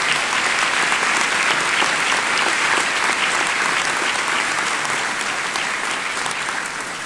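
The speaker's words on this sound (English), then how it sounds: "Please join me in thanking them with a round of applause for their service." A school assembly audience at Port Huron High applauds staff for their service, steady dense clapping from a large crowd filling the hall throughout and tapering slightly at the end.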